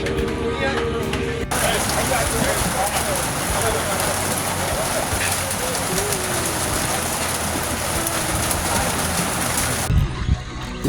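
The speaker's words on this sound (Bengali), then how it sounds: "বৃষ্টি আসলে জোরে আস্তে আস্তে জোরে সরে নামতেছে" Rain falls steadily at Boga Lake, a hill lake in Bandarban, making an even, broad hiss across the whole stretch. Birds coo and call faintly through it, and a voice is heard briefly.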